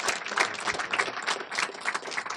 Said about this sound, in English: So if I could just get a round of applause for everyone on here.